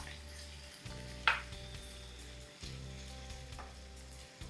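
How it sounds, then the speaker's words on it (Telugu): Ginger and garlic fry in a pan for a chicken fry, making a faint, steady low sizzle broken by a couple of short clicks and a brief gap in the sound. "అల్లం వెల్లుల్లి మంచిగా వేగాలి"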